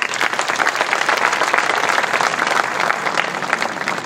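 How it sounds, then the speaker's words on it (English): A large audience at a city's annual State of the City address gives a loud, sustained round of applause, dense and even throughout with a faint crowd murmur mixed in. "Give them another round of applause."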